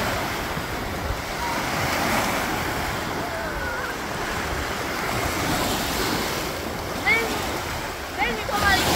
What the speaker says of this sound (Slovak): A tie vlny sa tam vám rozpinú.